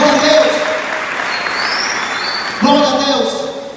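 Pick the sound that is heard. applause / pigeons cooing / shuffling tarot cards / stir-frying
applause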